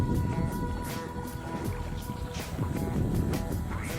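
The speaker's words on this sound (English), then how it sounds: "listen to the waves lapping on the shore." Waves lapping against the sandy shore of Big Lake in the Sierra Nevada backcountry, a soft, steady wash of small splashes and gurgles, close by and with no voices.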